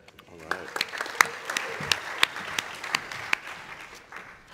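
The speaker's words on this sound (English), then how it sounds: "give a big round of applause for our Sun Saluter" Audience applause at a startup pitch event, a steady wash of clapping with scattered louder claps, moderately loud throughout while a voice talks briefly over it.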